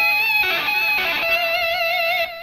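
Electric guitar octave picked behind the thumb gives a brief bright ringing tone with a wavering, effect-laden sustain that fades after about two seconds.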